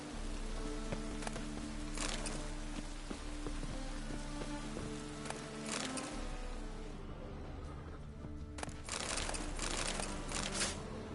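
Steady rain in The Witcher 3 video game patters and hisses continuously over a low, sustained hum, with occasional louder bursts of drops; no one speaks.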